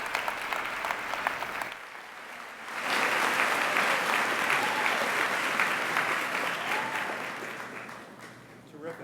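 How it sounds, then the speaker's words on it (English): A school assembly audience claps after a student performance of a song from Annie, applause swelling after a quieter start and holding strong for several seconds before tapering, with faint voices mixed in. "Would you give them another round of applause?"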